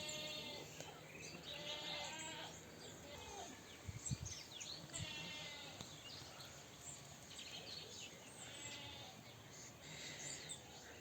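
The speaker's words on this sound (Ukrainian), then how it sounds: "Дівки мої кози кричать" Several goats bleat repeatedly in drawn-out wavering calls, with birds chirping in the background and a faint outdoor hum.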